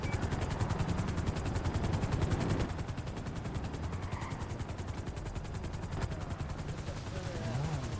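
Continuous rapid gunfire bursts from a game, dense and loud throughout, with a helicopter-like drone underneath and no clear talking.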